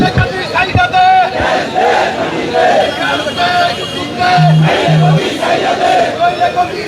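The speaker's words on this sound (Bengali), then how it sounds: "তিনি স্লোগান দিচ্ছিলেন।" A large protest crowd chants slogans in rhythmic, loud unison during a Jamaat march toward the Secretariat over fuel and gas demands, with police blocking the way and voices rising and falling in repeated calls.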